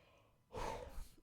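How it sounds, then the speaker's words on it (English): A man gives a fake yawn, a single breathy drawn-out exhale lasting under a second, fairly quiet and close. "bit of a fake yawn."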